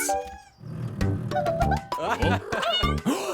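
A cartoon kitten gives a few short, rising meows in a kids' construction-site cartoon, set over a busy backdrop of music and other character voices.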